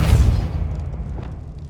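A Depulso force spell blasting in Hogwarts Legacy on PS5: one heavy, booming impact at the start, followed by a low rumbling decay and a few faint crackling debris sounds, with no talk.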